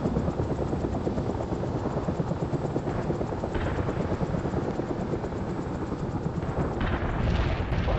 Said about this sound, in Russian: Вот как лихо можно сбить сразу группу вертолетов.